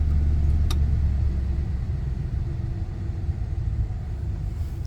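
Engine of a 2023 Ford Super Duty pickup truck running at raised RPM, a steady low rumble heard up close with a brief click early on.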